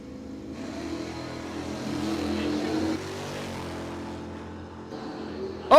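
A Plymouth Belvedere and a Plymouth Barracuda run a drag race at a dragway, engines roaring loudly and steadily as they accelerate, the sound easing off toward the end before a sharp burst at the very close.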